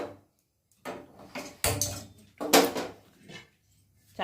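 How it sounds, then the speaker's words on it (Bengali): A flat griddle pan (chatu) set down on a stove in a home kitchen, with a few separate metallic clunks and knocks between short quiet gaps, close and clear. "চাটু বসিয়ে দেওয়া হলো।"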